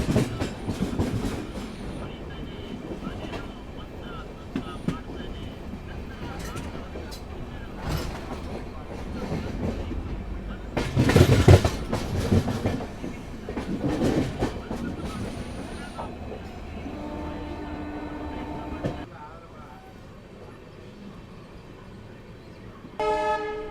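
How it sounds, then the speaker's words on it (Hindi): Diesel locomotive train rolling slowly into Yashwantpur railway station on a ghat route, with steady engine rumble, rail clatter and a loud horn toot midway, continuous and close. "ऐसे आवाज़ सुनने को मिलती है डीजल लोकोमोटिव की, बहुत अच्छी लगती है।"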